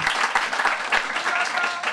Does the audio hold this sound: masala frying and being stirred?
no